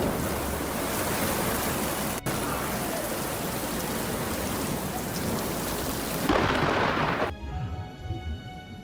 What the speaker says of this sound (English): Lightning often appears with heavy rain